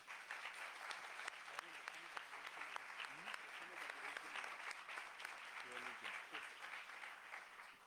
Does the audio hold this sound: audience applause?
yes